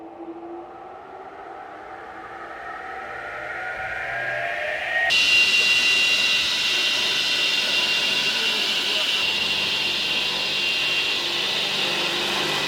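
A home-workshop table saw fitted with a carbide blade switches on, rising through a climbing whine into a loud, steady high-pitched spinning hum, with a voice talking over it.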